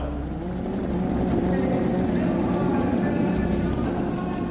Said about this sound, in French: Pilote, démarrez vos moteurs.